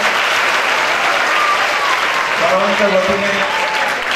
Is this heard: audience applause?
yes